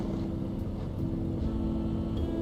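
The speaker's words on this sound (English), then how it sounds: "What is with the terrifying truck noises?" A heavy truck engine in the video game Ice Road Truckin' drones with a deep, steady rumble and low tonal hum, continuous and loud with no talking over it.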